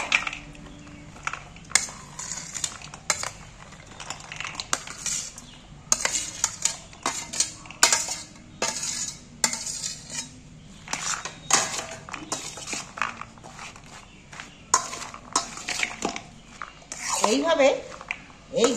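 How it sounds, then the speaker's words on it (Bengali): Soaked chickpeas with cucumber and tomato are poured into a second dish and mixed by hand, giving clinking and scraping of utensils against the dish plus soft squelchy stirring, with someone speaking over it. "আমি আরও একটা জায়গা নিয়েছি মাখার জন্য, এর মধ্যে ঢেলে নিচ্ছি, নিয়ে মেখে দিচ্ছি"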